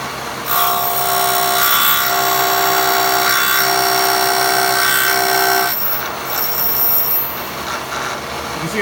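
A Floyd Rose guitar tremolo block is machined with a 0.5 mm pass, giving a loud, close metallic cutting whine with tonal ringing that runs for several seconds, drops away, then briefly resumes.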